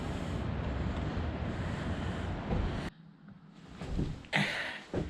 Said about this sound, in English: And here's the Atlantic Ocean.